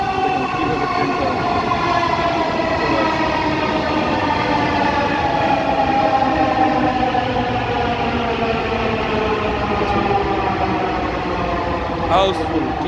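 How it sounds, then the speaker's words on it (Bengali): A Dhaka metro rail train arrives at Uttara station on a crowded holiday, its rising electric motor whine loud and steady throughout with rumbling wheels and a brief high tone near the end. "এই তো দেখতে পাচ্ছি একটা ট্রেন দ্রুত গতিতে চলে আসছে।"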